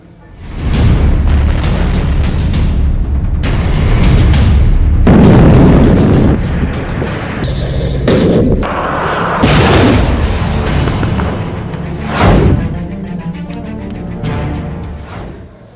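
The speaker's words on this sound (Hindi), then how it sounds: "कीव के कई इलाकों में धमाकों और गोलियों की आवाजें सुनी जा रही हैं।" Heavy booms and explosions with bursts of gunfire in Kyiv during the Russia-Ukraine war, loud and continuous with rumbling blasts, distant reports and a rising whistle partway through.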